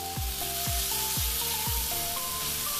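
Boiled cashew nuts frying over a low flame give off a steady, close sizzle, broken by a few soft thumps of stirring. A quiet tonal hum runs through the background.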